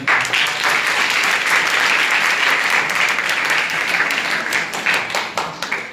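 Loud, sustained applause from an audience at a school event honoring a guest, dense clapping filling the room steadily for several seconds, with a voice faintly present.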